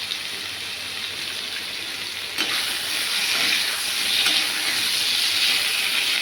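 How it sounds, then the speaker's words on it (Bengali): Potatoes fry in oil in a pan with a steady bright sizzle for a soybean and potato curry, the hiss briefly swelling partway through, close by and with no talk. "আলুটাও ভাজা হয়ে গেছে, একটু একটু বাকি আছে।"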